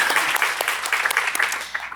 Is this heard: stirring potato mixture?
no